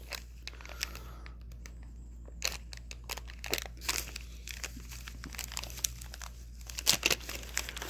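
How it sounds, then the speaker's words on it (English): A small sack of bolts is pulled out of its bag, the plastic crinkling and crunching in irregular close bursts over quiet room tone, during test fitting of LS engine parts on a 1955 Pontiac Safari. "So, get our little sack of bolts out."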